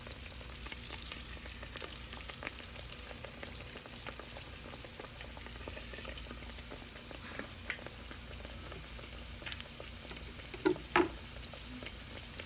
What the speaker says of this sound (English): We'll go ahead and get some more in the fryer here.